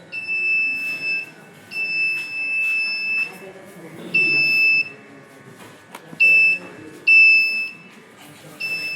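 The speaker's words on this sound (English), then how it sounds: "buzzer sounds" A touch-sensor Arduino doorbell buzzer sounds in a series of short, shrill two-tone bursts, some brief and some held for about a second, over faint background noise.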